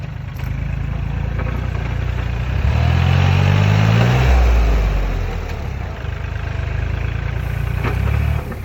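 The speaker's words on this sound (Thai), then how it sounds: "รถไถกำลังดันดินครับ ดันกองดิน" A tractor pushing a heaped pile of soil while raising and leveling farmland, its engine droning steadily and close, with a low rumbling surge of effort in the middle.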